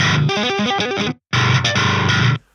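A heavily distorted, buzzing metal bass tone on its default setting plays a short melodic phrase, drops out for a moment, then returns loud and gritty before cutting off.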